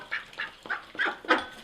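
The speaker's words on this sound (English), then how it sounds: "And hand feed the duckies a few." Ducks quack in short, loud bursts, about five calls in quick succession, close by while being hand fed tomatoes.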